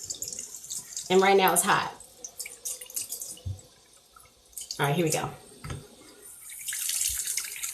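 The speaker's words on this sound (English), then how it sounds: "Okay, so I just fill my sink up." Tap water gushes into a sink being filled to wash a synthetic wig, in two short bursts with quiet gaps between, while someone talks over it.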